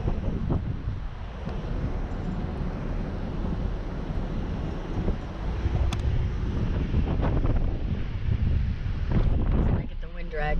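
Wind buffets the microphone on a moving boat on Lake Erie between Cleveland and Put-in-Bay, a steady, loud roar through the whole stretch with faint water and engine noise beneath.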